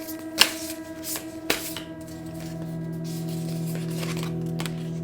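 Tarot cards are drawn and laid out for a reading, with two sharp card snaps early on followed by soft sliding and shuffling. Everything stays quiet and close, with a steady hum underneath and no speech.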